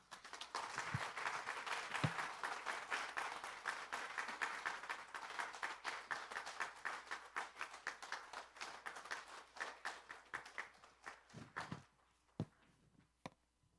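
A church congregation at a Sunday worship service claps to welcome a retired founding pastor to the pulpit, a steady stretch of many hands clapping that thins into a few scattered claps near the end.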